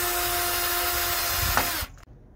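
A power drill drives screws into a wooden gate board, a steady close whirring that cuts off abruptly near the end, followed by a brief click and quiet.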